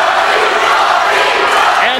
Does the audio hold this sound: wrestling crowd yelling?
yes